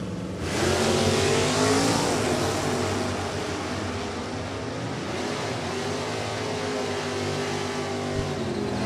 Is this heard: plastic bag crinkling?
no